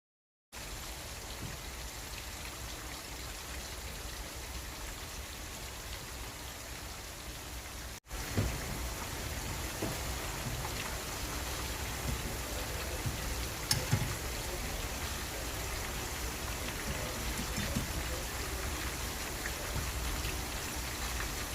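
Lahori chargha chicken, steamed first, frying in hot oil over high flame, giving a continuous dense crackling sizzle that runs steadily throughout, with a brief pause near the start.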